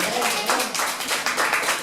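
A church congregation claps their hands together in a loose, pulsing rhythm, loud and close, with voices mixed in throughout the brief stretch.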